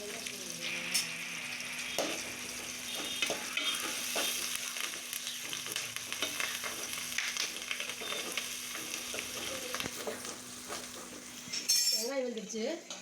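Salted onions sizzle steadily in a pan while a metal utensil stirs them, scraping and clinking now and then. The frying is soft and close, and a faint voice is heard near the end.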